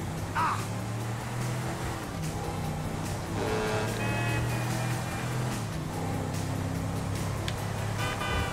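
Car driving in Grand Theft Auto V: a steady engine drone and road rumble runs throughout, with game effects and brief tonal sounds layered over it and no speech.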